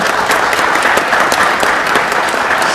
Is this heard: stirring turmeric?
no